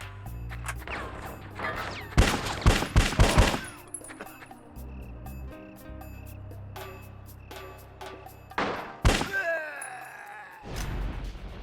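Bad Boys: Miami Takedown on Xbox: bursts of rapid video game gunfire crack out in clustered volleys, then pause, with a later burst and impacts layered over a low, droning game soundtrack.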